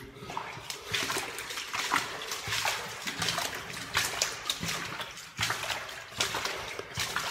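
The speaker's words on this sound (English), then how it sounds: "It's just us walking in the water" Footsteps slosh and splash through flooded water on a walk toward Fort Gilkicker, built 1871, a steady run of wet splashes and trickles close by with no talking.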